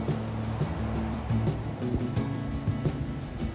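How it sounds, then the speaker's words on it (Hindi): River water released through dam gates near Karcham rushes down the valley, a loud, steady roar of turbulent flowing water, close and constant with no voices. "आप देखो यहाँ से ये पानी धीरे धीरे छोड़ते हैं, गेट छोड़ते हैं, वैसे ये पानी यहाँ से निकलता है"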